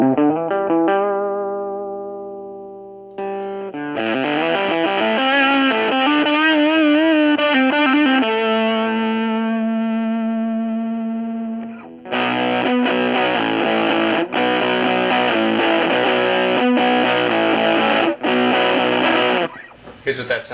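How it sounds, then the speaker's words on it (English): A Gibson SG electric guitar plays through a Coffee Grinder distortion pedal into an old customized tube amp, first clean sustained notes, then fuzzy driven chords and strummed riffs, loud and continuous with brief gaps. "I'm playing through a Gibson SG into an old customized tube amp."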